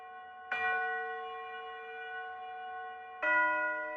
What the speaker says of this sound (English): so we have funeral bells.